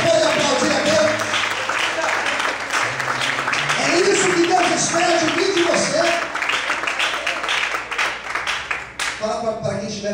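A church congregation applauds during a sermon, a sustained wash of clapping running under a preacher's amplified voice and accompanying music before it fades near the end.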